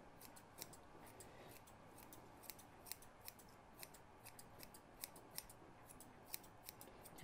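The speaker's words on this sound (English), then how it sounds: "I switch to the less bulky thinning shears" Thinning shears snip through a spaniel's coat while it is trimmed, a quiet, quick run of small metallic cuts at an irregular rhythm, close up over a low background hum.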